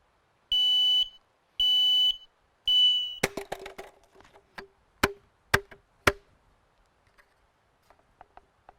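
A motion-activated alarm lantern at a campsite gives three loud, sustained electronic beeps, followed by a series of sharp clicks and taps that fade out.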